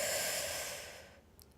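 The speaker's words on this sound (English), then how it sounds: "Breathing in." A person takes one deep inhaling breath during a breathing exercise, a loud, close, airy rush that tapers off after about a second, with no talking.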